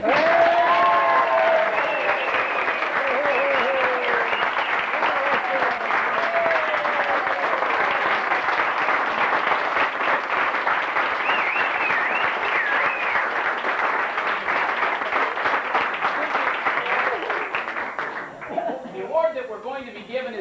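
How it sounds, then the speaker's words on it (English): Sustained applause from a crowd at a 1983 reunion, steady and full for most of the stretch, then thinning out toward the end. "Let's have a nice round of applause for Gordon Brunner."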